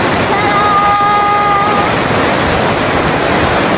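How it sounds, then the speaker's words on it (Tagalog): Bunsuran Falls roars as a loud, steady wash of rushing water, close and unbroken, with a faint high tone briefly riding over it early on. "mas maririnig niyo yung agos ng tubig"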